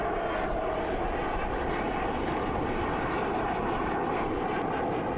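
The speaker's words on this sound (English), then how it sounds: "We currently have the F-22 Raptor and the P-51 flying in the sky" Aircraft engine roar from an F-22 Raptor and a P-51 Mustang flying at the Pacific Airshow in Huntington Beach, California: a steady, broad, continuous drone with no talk over it.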